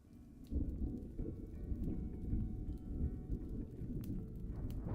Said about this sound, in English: So yeah, we have fire sounds and thunder sounds in the background.